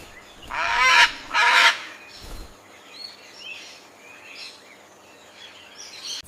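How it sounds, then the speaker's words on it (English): A trumpeter swan gives two loud, brassy honking calls close by, followed by fainter, softer calls in the distance. "It's a trumpeter swan."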